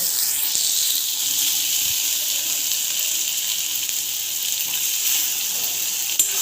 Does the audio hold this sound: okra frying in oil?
yes